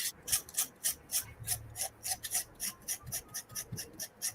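Sandpaper rubbed by hand in rapid, regular back-and-forth strokes during an art and craft session, a close, dry rasping rhythm of about four strokes per second with no talking.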